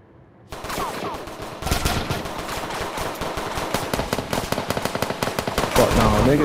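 Rapid bursts of AK automatic gunfire from a Roblox game set in a Bronx-style street, loud and continuous with dense rattling volleys, building toward the end.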